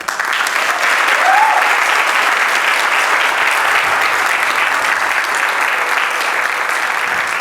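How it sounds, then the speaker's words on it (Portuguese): A packed hall at an authors' gala applauds a cellist after an elegant performance, with dense, steady clapping sustained loud and close for the whole stretch, a brief voice or whistle rising once early on. "eu gostaria que a primeira grande salva de palmas desta sala cheia fosse para Walter Freitas"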